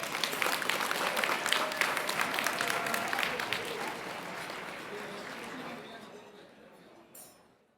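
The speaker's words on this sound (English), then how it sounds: "Please give U.S. Bank and our members a round of applause while we take a group photo" A conference audience applauds U.S. Bank and its members with dense, lively clapping that fills the room, mixed with voices and a few clinks, then gradually thins and dies away.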